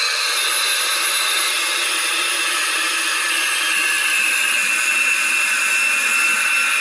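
FMS A-10 model jet running a Model Sounds Inc. sound system at half throttle: a steady, loud turbine whine and hiss holding even throughout, with no talk.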